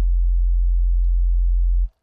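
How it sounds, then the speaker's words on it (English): A plain sine wave from a basic Nexus synth preset in FL Studio holds one low, pure, steady tone at constant loudness for nearly two seconds before fading out quickly. "let's take a basic sine wave. We'll load up Nexus, basic sine."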